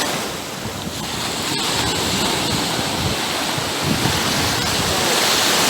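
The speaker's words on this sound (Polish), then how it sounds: "Zobaczcie, jakie fale." Strong waves of 17-degree water break continuously on the Baltic shore at Mielno, Poland, giving a loud, unbroken roar of surf with heavy wind buffeting the microphone.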